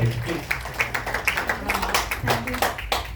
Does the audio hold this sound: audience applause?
yes